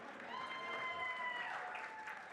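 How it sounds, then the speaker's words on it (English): Audience applause at the Capitol Awards ceremony as media personality nominees are read out, a steady wash of clapping filling the room throughout, moderately loud and continuous. "Oh, whoa, I expect more claps than that."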